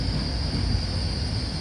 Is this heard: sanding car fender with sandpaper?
no